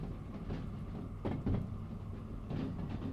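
Train cars in Derail Valley rolling steadily past, a continuous low rumble with brief clunks and rattles of wagons passing.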